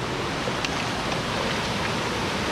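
Waterfalls at an abandoned mine pour with a steady, dense, hissing rush of falling water that holds constant throughout, with no voices.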